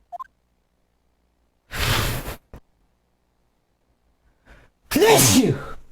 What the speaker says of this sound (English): I'm having a sneezy fit.